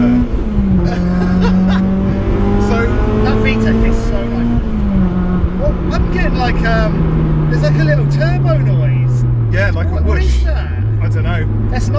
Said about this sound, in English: I felt the VTEC kick in then. That engaged beautifully.